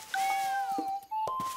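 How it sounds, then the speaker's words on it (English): A small, scared cartoon cat hiding in a bush lets out a long, clear meow that bends in pitch, followed by a shorter second cry, close and loud with no talking. "So let's have a look at the little cat."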